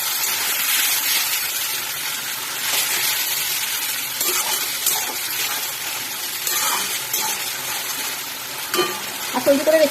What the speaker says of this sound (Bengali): দিয়ে ভালো করে মশলাটাকে একটু কষিয়ে নেব